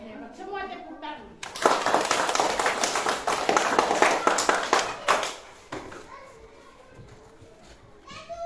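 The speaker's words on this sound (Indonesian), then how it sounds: "Semua tepuk tangan." A classroom of children bursts into clapping hands and applause, dense and lively for several seconds before tapering off, with kids' voices and teacher speech around it.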